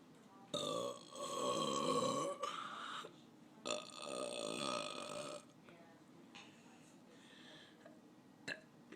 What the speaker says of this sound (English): Well, that was me burping.